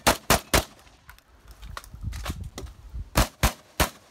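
Sharp, loud shotgun blasts at a shooting competition crack in two quick bursts of three, separated by a brief pause filled with shuffling and clatter.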